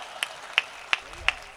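An audience at a Hindi comic shayari stage show claps in four evenly spaced, crisp beats, fairly quiet, with a faint voice near the end.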